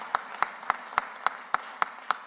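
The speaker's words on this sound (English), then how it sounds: "Please give him a round of applause." Slow, evenly spaced single claps repeat about eight times, sparse and distinct, offered for Philadelphia's outgoing managing director.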